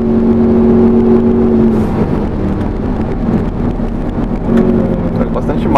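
A Jaguar F-Type P300 with a 2.0 turbo engine on the Interlagos track gives a loud, steady engine drone with tonal harmonics that shift in pitch as it accelerates, filling the whole stretch close up.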